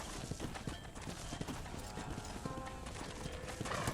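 Horse hooves clip-clop in the Red Dead Redemption video game, a quick steady rhythm of hoofbeats under a busy mix of game sound, with a hint of a whinny.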